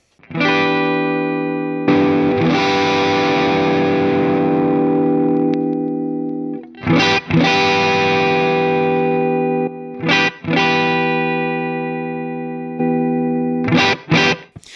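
Electric guitar played through a clean amp with a Fractal Audio drive model as a subtle enhancer: sustained ringing chords, loud and close, each left to decay before quick restrikes and a few short choppy strums near the end, with no voices.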